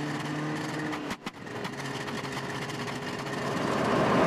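A car engine, misfiring and held back in extreme cold below -40, drones steadily with an uneven, stuttering hum and a brief sharp dropout partway through, recorded from inside the moving car.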